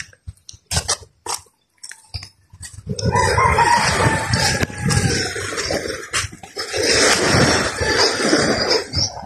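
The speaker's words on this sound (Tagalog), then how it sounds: "maraming alagang mga manok guys." Roosters among many domestic chickens at a Philippine fishing village crow outdoors, after a few sharp clucks and knocks, with a long, loud cock-a-doodle-doo and overlapping calls carrying across the background.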